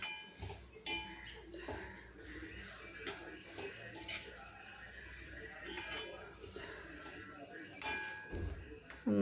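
Beaten rice flakes and jaggery being stirred together in a pan for aval payasam, with soft scraping and clinking of a spoon against the pan in irregular strokes over faint background noise.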